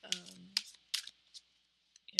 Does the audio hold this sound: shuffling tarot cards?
yes